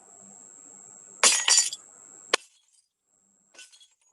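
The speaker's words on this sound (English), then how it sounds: "It's a sound of breaking glass." Glass breaking in a recording played back: a sudden loud crash with scattering shards, one sharp clink, then brief faint tinkling after a pause, with no talking.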